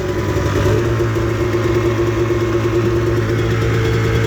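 A 1998 Arctic Cat Z440 fan-cooled twin-carb snowmobile engine runs loud and close, holding a steady, even drone throughout with no pauses.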